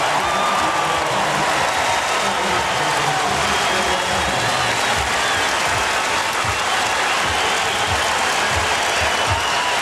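A less than capacity crowd in an Indiana basketball arena cheers and claps in a loud, continuous roar that holds steady throughout, with no clear talk standing out.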